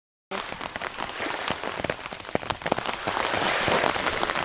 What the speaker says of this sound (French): Oh, là, il pleut vraiment très fort.